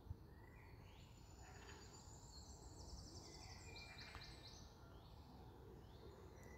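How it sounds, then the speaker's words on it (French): Birds chirp and sing faintly in the background of a quiet outdoor setting, with scattered high calls and trills over a steady low ambient hum, and no talking. "juste les oiseaux en arrière-plan que vous pouvez entendre maintenant"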